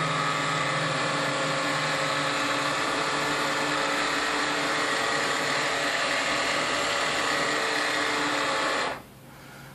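A WaterShield SulfurBlock water filter's motor runs steadily through a regeneration cycle, a loud continuous mechanical whir and hum with a gear-like ratchet texture that drops off sharply near the end.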